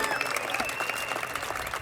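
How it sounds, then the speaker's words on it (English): Audience applause for Dr. Doug Evans at the Dinner on the Diamond gala, a steady wash of many hands clapping at moderate level with no break. "One more round of applause for Dr. Doug Evans."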